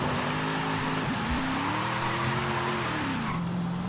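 Tyre squeal of a car drifting in Forza Horizon 5, a steady loud engine drone with shifting pitch sliding through a long slide, no voices.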